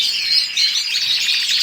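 Goldfinch held in the hand for sexing, giving rapid, thin, high chirps that run on continuously for under two seconds, loud and very close.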